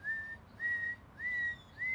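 A human voice whistles an imitation of a small owl's call: four short, high, clear whistled notes in an even, spaced rhythm over faint background hiss.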